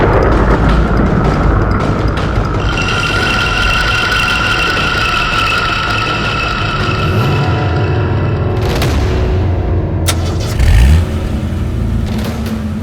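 A repaired car engine cranks, catches and runs loudly and close, its steady rumble holding for several seconds with a brief revving surge near the end, no voices over it.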